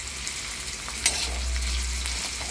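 Chopped fenugreek leaves and onion fry on a hot tawa with a steady, close sizzle, crackling under a soft low rumble, with a brief sharp clink of a utensil partway through.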